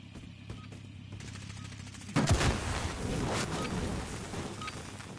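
Sustained burst of video game gunfire breaking out after a quiet stretch, loud and close, a dense clatter of shots continuing to the end with no speech.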